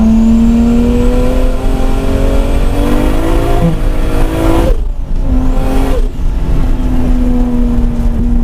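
A modified Toyota Supra with a 600 hp single-turbo engine roars loudly under hard acceleration, revs climbing steadily, dropping briefly at a gear change, then pulling again close and loud with no talking.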